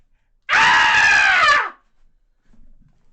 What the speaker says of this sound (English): I just screamed.